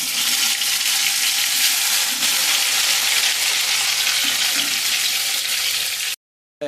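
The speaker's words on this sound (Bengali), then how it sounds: "এবার স্লো ফ্লেমে আলুগুলো আমি ভেজে নেব" Potato pieces, salted and coated with turmeric, fry in oil over a slow flame, giving a continuous, even sizzle close by that stops abruptly near the end with a short silence.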